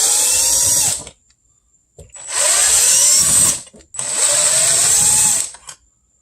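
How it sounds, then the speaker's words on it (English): A power drill backs out T20 Torx screws from a BMW door panel in three loud whirring bursts of about a second and a half each, separated by brief silences. "you're probably going to want to use a little extender here for your drill or your socket wrench"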